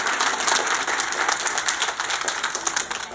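A crowd applauds kindergarten children at their school play at Heathwood Hall, giving dense, continuous clapping with crisp individual claps standing out, moderately loud and close, with no voices over it.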